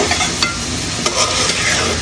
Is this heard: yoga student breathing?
no